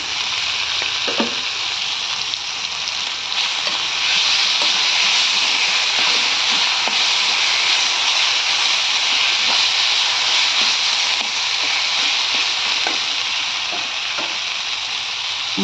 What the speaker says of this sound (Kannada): ಈಗ ಇದು ಒಗ್ಗರಣೆಗೆ ನಾನು ಇದನ್ನು ಸರಿಯಾಗಿ ರುಬ್ಕೊಂಡಿರೋ ಅಂಥ ಹಸಿಮೆಣಸಿನ ಚಟ್ನಿನ ಹಾಕ್ತಾಯಿದ್ದೀನಿ.